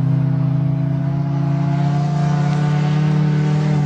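Ford Tempo and Honda automatic cars race through a cornfield, engines droning loud and steady with a rising harmonic whine, close by and continuous throughout.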